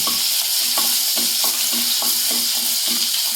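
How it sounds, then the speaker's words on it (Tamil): Crushed garlic sizzles in a pan of hot oil with mustard seeds for a plantain stem and Bengal gram poriyal, while a spoon scrapes and stirs in a steady repeating rhythm over a loud, constant frying hiss. "நம்ம இப்போ இந்த வெட்டின இந்த தனியாக நசுக்கின பூண்டு இல்லையா, அதை போட்டுக்கலாம். அதை போட்டுட்டு கிளறி விட்டுக்கோங்க."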